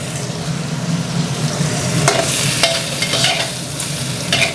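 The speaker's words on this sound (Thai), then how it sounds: "กุ้งเนี่ยเราลงไปผัดให้มันสุกสักแป๊บนึงก่อนนะครับ" Shrimp stir-fried briefly in a hot pan while making oyster-sauce mushrooms, a steady close sizzle with repeated scraping strokes of a spatula throughout, no voices.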